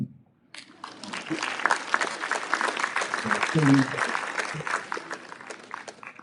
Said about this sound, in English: This is the bit where you clap.